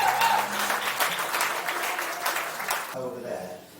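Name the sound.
applause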